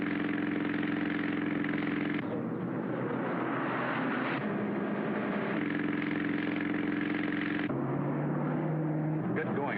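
A car engine drones steadily during a police chase, its pitch shifting with each gear or throttle change, loud and close, with speech mixed in at times.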